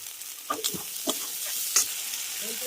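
Soft sizzling of spice paste with cumin paste, turmeric powder and chopped tomato frying in a pan, with intermittent scraping stirs from a spatula, fairly quiet and close.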